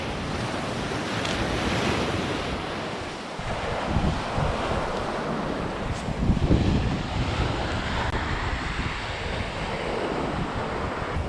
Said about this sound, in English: the waves here mean that it's windy out there